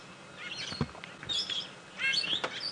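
A bird calls during a sunset safari game drive in the bush, giving several short, bright chirps and tweets in two or three bursts, fairly near and clear, with no talking.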